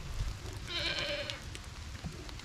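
A loud mother goat bleats once in a long, wavering call near the listener, set against steady outdoor rain patter and farm background noise.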